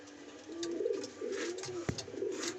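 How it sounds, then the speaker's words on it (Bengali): Pigeons kept for sale coo softly in repeated low throaty phrases close by, with a faint click partway through and no talking. "দেখুন গুড কোয়ালিটি পিজন।"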